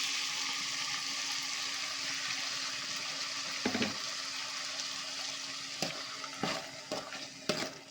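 Ground masala paste going into frying lentils for hithakinbele saaru: a steady close-up sizzle and hiss with a few sharp stirring clatters near the end, no talking.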